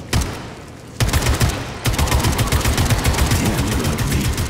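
Rapid automatic gunfire shooting enemies in Atomic Heart, a dense, loud, close volley that pauses briefly and resumes, sustained and continuous with no talking.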